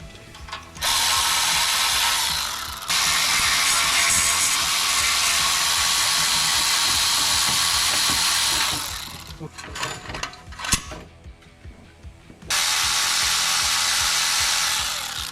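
A hand ratchet turns on the exhaust head pipe and motor mount bolts of a motorcycle. Long, loud runs of fast clicking come close up, broken by a quieter stretch of clanks and handling noise, then the clicking starts again.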